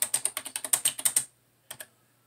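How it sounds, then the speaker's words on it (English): Fingers tap a computer keyboard in a fast run of about a dozen crisp, close key clicks, then a short silence before two final keystrokes. "So I'm going to try typing,"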